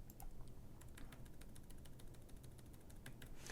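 Fast, irregular keystrokes on a computer keyboard while entering code, soft clicks spread evenly over a steady low background hum, with no talking.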